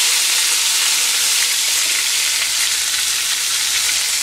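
Ground onion paste fries loudly in a hot pan for Chettinad egg curry, with a dense, continuous close-up sizzle that stays steady throughout and no voices.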